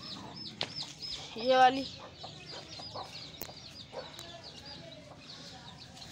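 Chickens and quail cluck softly in a busy coop, with a brief louder squawk and a short spoken phrase nearby.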